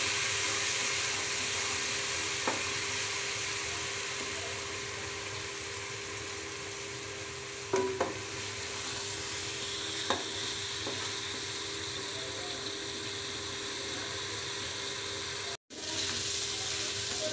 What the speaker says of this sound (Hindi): इसको हम थोड़ा सा भून लेते हैं